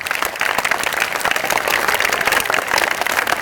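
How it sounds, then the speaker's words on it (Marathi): Students clap loudly and continuously for their school teachers, a dense, even burst of applause that fills the whole moment with no talk over it. "टाळ्या वाजवा एकदा शाळेतल्या सगळ्या शिक्षकांसाठी."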